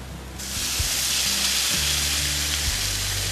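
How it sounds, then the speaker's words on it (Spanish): Boiling water poured into a pan of browning sofrito seasoned with salt and pepper, setting off a loud, steady sizzle and hiss that surges up and holds close and continuous throughout. "Luego, en este punto, vamos a agregar agua hirviendo."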